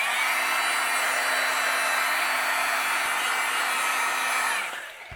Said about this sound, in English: turn on my heat gun, and I'm going to go ahead and melt both of these